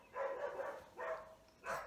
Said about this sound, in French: Pourquoi le chien il aboie?